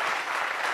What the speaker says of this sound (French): Applaudissez un peu pour les repéros.